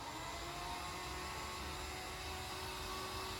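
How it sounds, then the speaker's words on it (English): An electric drill spins a canvas steadily, a loud continuous whirring roar holding an even pitch throughout with no pauses. "So I apologise for the noise of the drill"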